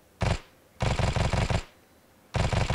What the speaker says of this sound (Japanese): 味方にも05式を持たせているので、ちょっと撃ってもらいます